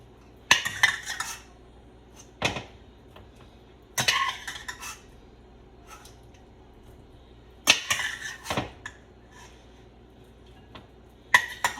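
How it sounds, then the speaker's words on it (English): A spoon scooping chorizo sausage and onion out of a soup pot, giving a few separate bursts of metal scraping and clanking against the pot with quiet pauses between them. "I'm taking out the chorizo sausage, which is a Portuguese sausage, with some of the onion is coming with it"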